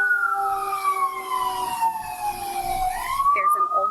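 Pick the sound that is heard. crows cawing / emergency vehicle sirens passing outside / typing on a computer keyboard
emergency vehicle sirens passing outside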